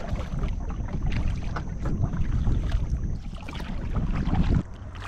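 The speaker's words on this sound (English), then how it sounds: "Yep, still paddling." A kayak is paddled along the Lower Wisconsin River, with rhythmic water splashes and swishes under constant rushing wind noise from a northwest breeze.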